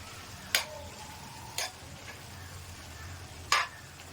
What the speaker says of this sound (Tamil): நல்லா மிக்ஸ் பண்ணுறோம்